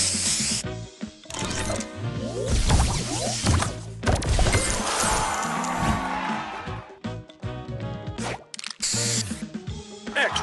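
A loud, busy spray effect plays in a colourful puzzle video game, with whooshing hissy bursts, crashes and cascading chimes layered over game music, dense and continuous throughout.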